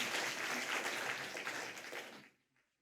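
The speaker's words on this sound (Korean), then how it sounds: "은사가 많으신 우리 장로님을 박수로 맞아주십시오." Congregation applause in a church service welcoming an elder, a dense steady wash of clapping that holds for about two seconds and then fades out quickly.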